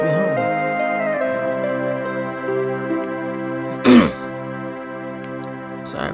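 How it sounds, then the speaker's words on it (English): A single sharp throat-clearing burst stands out midway over a steady background of music, with a second, softer one near the end. "Sorry for clearing my throat."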